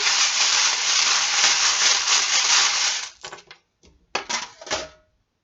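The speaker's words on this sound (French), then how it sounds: "on fait un petit peu de breloque pour finir le tirage" A handful of small divination charms (breloques) is rattled together for about three seconds in a dense clinking shake, then a few sparse taps and scattered clicks as they are tossed out and settle, close and without voices.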